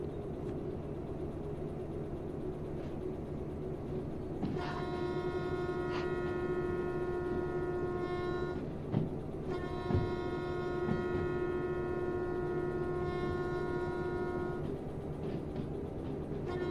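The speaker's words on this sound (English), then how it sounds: "If you're all wondering how I'm honking this horn, I do have a special button that I push." A train horn in Derail Valley sounds in two long sustained blasts with harmonic tones, separated by a short pause, over a constant low locomotive hum with a few clanks.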